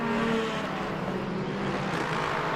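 Race cars in a Le Mans Ultimate video game replay, a continuous engine drone at moderate level with no clear pass-by peaks, heard alone without talk.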